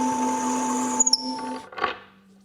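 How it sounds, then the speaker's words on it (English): A drill whines steadily for about a second and a half, then stops, followed by a brief scraping burst as a bolt hole in wood is countersunk. "Next I'm going to countersink so the bolt heads sit flush."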